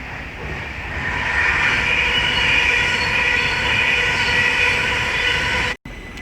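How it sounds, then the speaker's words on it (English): An Avanti West Coast Class 390 Pendolino running from London Euston to Preston passes through Willesden Junction on the West Coast Main Line with a steady loud rushing roar and a faint wheel squeal, cutting off briefly near the end. "there's an Avanti West Coast Class 39 to Pendolino from London Euston to Preston"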